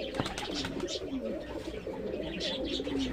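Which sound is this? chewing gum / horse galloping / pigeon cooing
pigeon cooing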